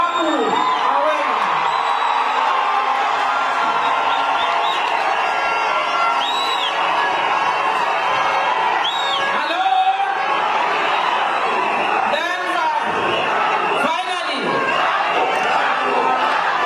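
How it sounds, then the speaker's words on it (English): A political rally crowd cheers and whoops loudly, with shouts rising and falling over a constant wash of voices and a speaker talking over it. "And this was received quite well with lots of, cheers from the crowd."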